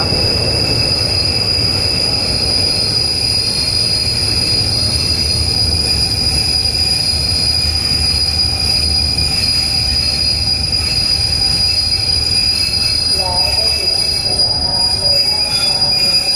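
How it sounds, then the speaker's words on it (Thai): A train's wheels and brakes squeal loudly and continuously as it enters Don Mueang station and slows, a steady high-pitched screech over a deep rumble, with no voices. "เสียงเบรกจะดังมากเลยครับ"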